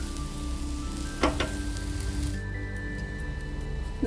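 Garlic and other ingredients for murungai keerai podi roast in a pan with a faint steady sizzle and a couple of brief stirring scrapes, heard close without talk.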